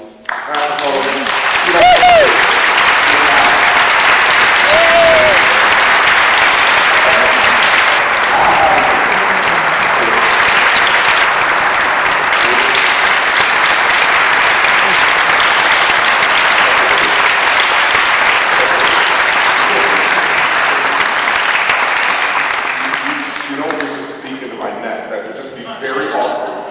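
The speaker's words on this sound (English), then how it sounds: "just give them a round of applause, please. Round of applause." A large audience breaks into a long, loud round of applause, dense steady clapping with some cheering and voices that carries on for over twenty seconds before tapering off near the end.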